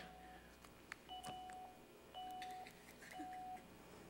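A mobile phone sounds a repeated alert, short steady electronic beeps recurring at roughly one-second intervals, faint and distant in a quiet room with occasional soft knocks and rustles.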